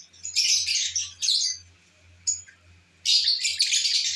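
Home-bred blue pale fallow lovebird chirping in bright, rapid bursts of high tweets, loud and close, with short quiet gaps between bursts.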